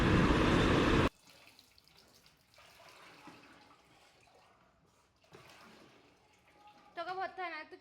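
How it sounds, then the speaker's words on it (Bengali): Water being poured to fill an air cooler: a loud, rushing pour at the start that cuts off sharply, then low splashing and trickling, with voices talking toward the end. "দেখো কুলারে জল ভরছে"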